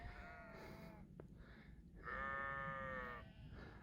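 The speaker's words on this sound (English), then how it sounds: "Back to hanging out with the sheep." Sheep bleat on a high mountain pass near Matterhorn Pass in Colorado, two wavering calls a little apart, the second louder and longer, over a faint windy background.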